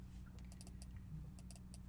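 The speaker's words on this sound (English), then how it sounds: "My mouse is moving, but it won't let me click" Several light, irregular computer mouse clicks, faint and close, sounding over a steady low hum with no voices.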